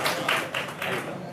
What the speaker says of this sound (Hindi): ज़ोरदार तालियों से उनका इस्तकबाल कीजिए।